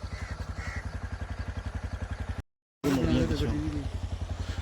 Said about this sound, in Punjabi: ਆ ਗੱਡੀ ਆ ਰਹੀ ਹੈ ਜੀ